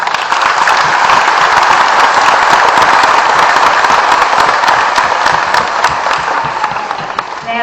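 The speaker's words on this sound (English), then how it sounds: "So let me give them a quick round of applause." An audience at a new citizens' swearing-in ceremony gives volunteers a round of applause, loud, sustained crowd clapping that tapers slightly near the end.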